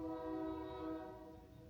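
A train passing near a house sounds a sustained horn, a steady multi-tone blare over a low rumble of rail noise that fades slightly toward the end, with no talking.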